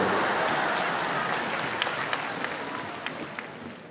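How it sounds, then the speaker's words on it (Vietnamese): Audience applause from a crowd at a live stage show, steady clapping from many hands that tapers slightly toward the end, with a few louder individual claps standing out. "Cứ vỗ tay vô tư đi."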